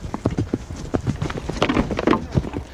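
Cavalry horse hooves clatter in a rapid, uneven clip-clop as mounted riders charge into a shield wall in a medieval battle reenactment, loud and close with dense overlapping impacts and some background commotion.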